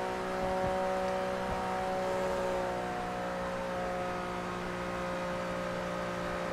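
A Lamborghini engine in the racing game Forza Motorsport 3 holds a steady, high-pitched whir at nearly constant revs, with no voices over it.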